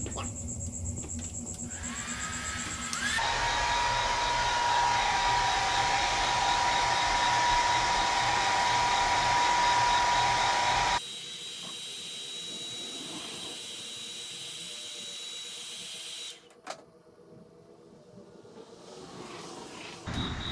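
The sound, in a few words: heat gun softening Harley-Davidson reflector adhesive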